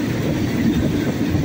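Passenger train 447 from Surat Thani to Na San, heard from inside the car as it rolls along the rails: a steady, loud low rumble with a continuous rolling drone and no talk.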